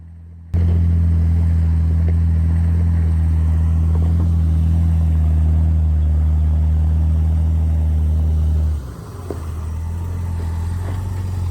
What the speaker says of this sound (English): Hey Rudy, I'm gonna hook up to the front of you. We'll just pull it up here.